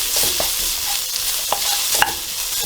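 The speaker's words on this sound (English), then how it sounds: "And give this a good stir around." Stirring spicy Asian-style pork noodles with chili flakes in a hot pan: a steady sizzle with scraping utensil strokes and a few sharper clinks, close and continuous, with no talking.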